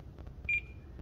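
A Spektrum NX radio transmitter gives a single short, thin electronic timer beep, faint and isolated in an otherwise quiet room.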